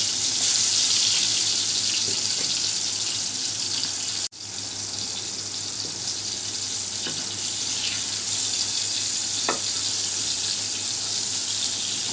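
Quartered tomatoes with salt and turmeric frying in oil, a steady watery hiss and sizzle with a brief break partway and a few faint stirring taps.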